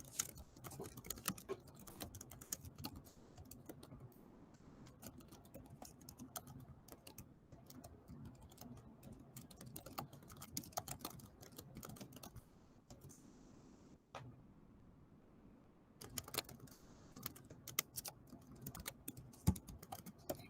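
Notes are being typed on a computer keyboard in a steady, quiet clatter of keystrokes that runs throughout, with one brief lull near the end before the tapping picks up again.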